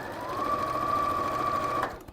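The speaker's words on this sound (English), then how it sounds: "So now I'm going to sew the squares together." A sewing machine stitches fabric squares together right side to right side, running in one steady continuous burst for about two seconds and then stopping.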